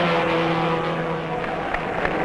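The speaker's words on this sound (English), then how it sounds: "Bruce McLaren pilots the first-place car toward the winner's stand" A 1966 Ford GT Mark II race car at Le Mans drives slowly toward the winner's stand after the race, its engine a low steady drone mixed with crowd noise and a faint voice, lasting just over two seconds.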